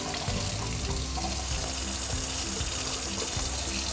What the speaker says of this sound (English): First, get the water running. You want lukewarm.